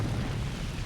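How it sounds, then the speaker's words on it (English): A video game explosion in Raw Danger, a dense, continuous low roaring rumble filling the whole second at steady loudness, with no speech. "Best explosion 1."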